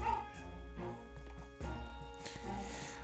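Weird dog-bark effect from the Zelda: Spirit Tracks video game, sounding as several short, clipped bursts in a quick uneven series, fairly quiet and without talk over it.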